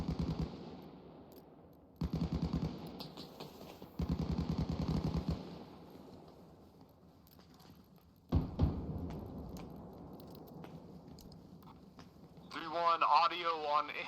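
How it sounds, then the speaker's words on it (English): Enemy autocannon fire in a military video game squad exercise, heard as bursts of rapid heavy shots at intervals, fairly loud, with radio-style chatter running beneath it. "Audio on enemy autocannon to the south"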